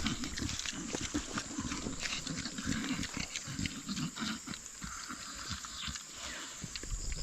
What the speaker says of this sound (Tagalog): At papakain na natin mga kautol. Ang ating alagang baboy.